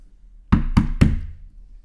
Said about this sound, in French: Les coups retentissent une seconde fois.